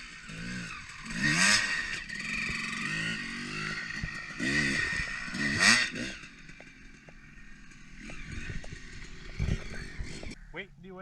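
A dirt motorcycle rides over a line of tires, the engine revving in rising and falling bursts alongside clattering knocks, loud and near, while someone talks over it.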